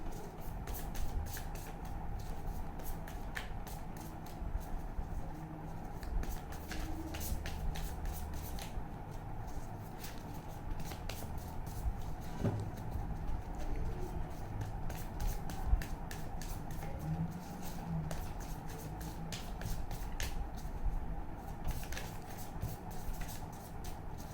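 Tarot cards are shuffled close by, with quick repeated riffles and soft snaps over a low, steady background hum.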